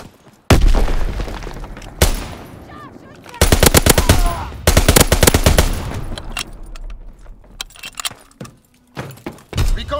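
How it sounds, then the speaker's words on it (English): Loud bursts of automatic gunfire and heavy booms from a Call of Duty WWII team deathmatch match on the Gustav Cannon map, several dense volleys separated by short lulls and scattered single shots near the end. "The cannon!"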